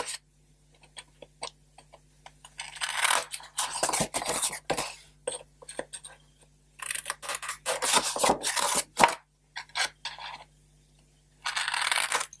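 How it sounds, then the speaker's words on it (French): Scissors snip the corners of a piece being cut, a series of crisp close cutting bursts separated by short pauses, with no talking. "je vais venir couper mes angles comme tout à l'heure"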